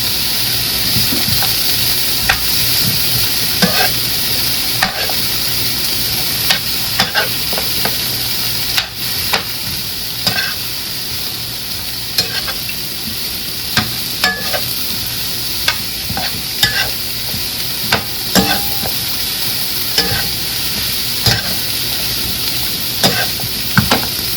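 Chicken frying in butter in a pan, a steady hiss of sizzling broken by frequent sharp clinks and scrapes as it is stirred, with no voices.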